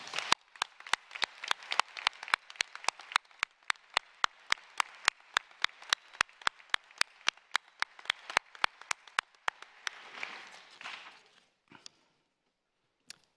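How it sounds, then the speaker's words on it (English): Sparse, slow clapping at a nursing pinning ceremony, distinct individual claps in a steady rhythm that thin out and stop near the end. "So please give yourselves a big round of applause"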